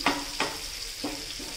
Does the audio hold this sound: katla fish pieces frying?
yes